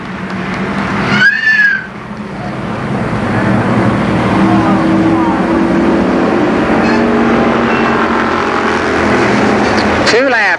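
Race cars roar around Columbus Motor Speedway during a 1990 season finale, a loud continuous engine drone with passing tones rising and falling, and a voice speaks over the din throughout.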